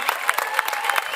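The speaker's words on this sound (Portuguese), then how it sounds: "salva de palmas para eles todos, que participaram" Brief burst of applause from a small crowd at a 2013 bullfighting-without-cape event, hand claps rippling at a steady quick pace, moderately loud with faint crowd murmur.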